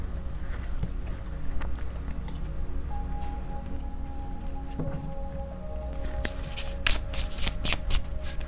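Tarot cards being shuffled and drawn by hand, a steady papery riffling and flicking close up, with sharper snaps of cards toward the end and no talking.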